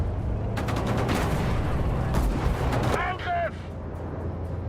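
Gunfire in the WWII strategy video game Sudden Strike 5, a dense clatter of shots and rumbling battle noise filling the clip, with game voice lines over it.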